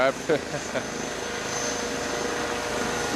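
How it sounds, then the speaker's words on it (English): A helicopter sets down on the numbers of a football field during a high school game, its steady rotor and engine roar filling the air loud and continuous, with voices briefly audible at the start. "I take more divots out when I play golf than that helicopter did when it hit the ground"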